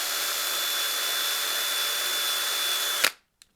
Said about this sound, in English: I'm going to real quick ream this out ever so slightly with a 3/16 drill bit.